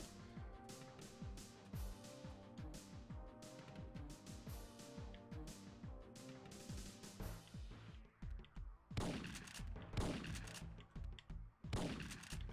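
Rapid video game gunfire crackles in dense bursts, then gives way to a few heavier, spaced single shots with echoing tails. Loud and close, with no talk.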